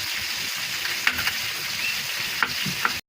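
Hilsa fish fry in a pan with a steady, dense sizzle throughout, broken by a few sharp crackles and pops, heard close with no talking.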